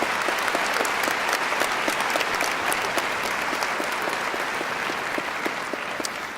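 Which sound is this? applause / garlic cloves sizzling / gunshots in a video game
applause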